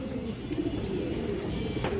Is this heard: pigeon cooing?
yes